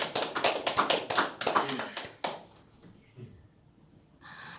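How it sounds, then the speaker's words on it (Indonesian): An audience claps at a talk on people with disabilities in Indonesia, a series of loud, sharp, fairly close bursts of hand claps in quick clusters that stop abruptly, leaving quiet room tone and a few faint sounds before talking resumes. "Tepuk tangan dulu yuk."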